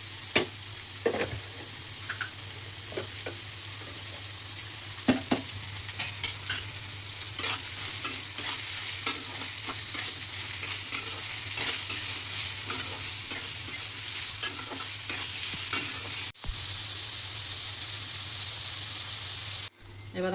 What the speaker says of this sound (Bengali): এবার আমার গাজরগুলো ভাজা হয়ে গেছে